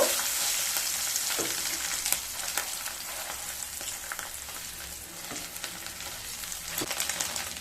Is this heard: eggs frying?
yes